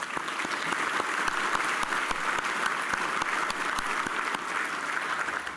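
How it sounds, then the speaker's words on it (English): Steady applause from a crowd at an awards dinner, many hands clapping in a dense, continuous patter at even loudness throughout. "So I think I'd like to give them a round of applause."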